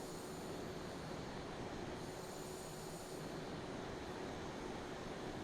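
Steady broadband roar of an F-14D Super Tomcat jet engine in Microsoft Flight Simulator 2020, constant and fairly loud throughout with no voices.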